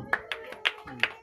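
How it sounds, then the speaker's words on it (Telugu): Four quick hand claps in an uneven rhythm at a birthday cake cutting, close and fairly soft, with faint voices underneath. "చప్పట్లు కొడతాం"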